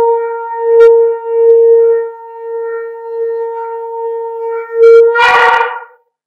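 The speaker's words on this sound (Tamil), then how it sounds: "அவ்வளோ பவர்ஃபுல் இந்த எக்காலம்" An ekkalam, a traditional Tamil wind horn, sounds a long sustained tone with steady harmonics, swelling and dipping in loudness before ending in a sharp, noisy burst of air near the end.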